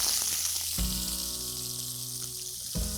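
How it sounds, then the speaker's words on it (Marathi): Two large sliced onions sizzle steadily while being sautéed in a pan for a Malvani dish. A continuous close frying hiss is broken by soft stirring thumps, with no talk. "मी 2 मोठे कांदे घेतलेत आणि ते स्लाइस असे कापून घेतलेले आहेत, ते सगळे मिक्स करूया. तेही छान परतून घेऊया."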